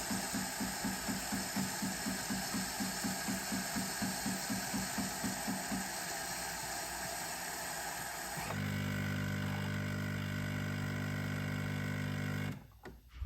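A noisy home espresso machine making double lattes with almond milk, first pumping with a fast rhythmic pulsing chug, then settling into a loud steady hum and steam roar before cutting off abruptly near the end.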